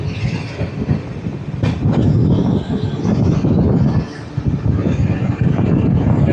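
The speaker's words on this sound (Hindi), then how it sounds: "सामने देखिए बिल्कुल सी शेप में हमारी ट्रेन ब्रिज को क्रॉस करती हुई।" Uttar Sampark Kranti train crossing a bridge on the Jammu–Katra line: loud continuous rolling rumble with rhythmic wheel clatter and rattling carriages, heard from on board, with no talking.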